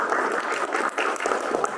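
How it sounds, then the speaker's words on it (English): Attendees at a Texas primary candidate forum on public education give a short burst of applause, close and fairly loud, with a busy, uneven patter of many hands. "ask you all to give yourselves a round of applause"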